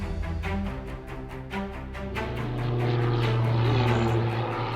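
A propeller airplane drones steadily overhead, its engine tone holding strong and then swelling a little louder near the end, with no talk over it.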